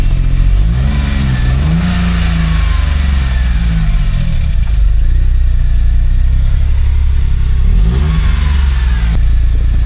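A car engine runs steadily and revs up twice, rising and falling in pitch near the start and again toward the end, loud and close with no talk over it; the car has a suspected bad electrical connection and brakes needing bleeding.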